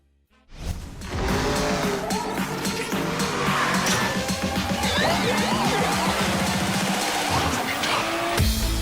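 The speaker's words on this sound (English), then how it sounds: "Hear the roaring engines of indestructible cars." Cars roar and tires squeal continuously in the video game Rocket League, with loud engine whines rising and falling, skids and clattering impacts layered into a dense, busy mix that starts abruptly after a brief quiet moment.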